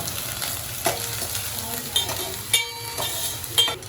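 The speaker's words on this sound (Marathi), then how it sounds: "आता कांदा जरा आपण परतून घेऊ." Chopped onion stirred in ghee in a pan, with a steady low sizzle and a few sharp scraping clicks of a spoon against the metal, close by and continuous.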